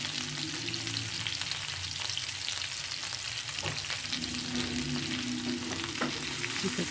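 Vegetables seasoned with salt and black pepper being stirred and mixed in a hot pan for nine-jewel pulao, with a continuous close sizzle of frying and soft scraping stir strokes throughout.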